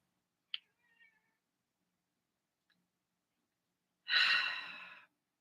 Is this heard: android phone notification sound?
no